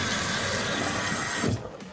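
Water runs steadily from a tap for under two seconds, a dense hiss that cuts off abruptly near the end, leaving a quieter residual trickle.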